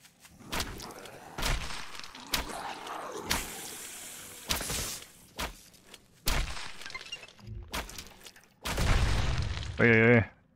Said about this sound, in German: Uiuiui, mitten in der Explosion gestanden.